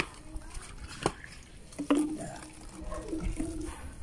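Water being poured into a bucket at a building site, faint splashing and trickling with a few sharper clinks and drips, fairly quiet and uneven over a few seconds.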